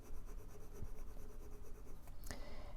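A fine-nib fountain pen inked with Waterman Inspired Blue scratches softly across paper in short strokes, close and quiet, ending in a brief sharper scrape.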